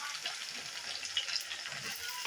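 Onion and curry leaves sizzling in hot oil in a kadhai, a steady, fairly quiet crackle with no clear breaks, faint sounds of stirring and no talk.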